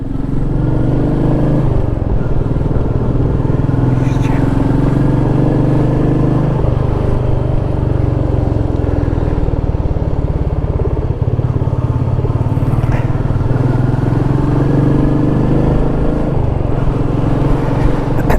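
A Royal Enfield Meteor 350 motorcycle hums loudly and steadily as it is ridden, its engine drone mixed with wind noise and a couple of shifts in pitch, with no voices.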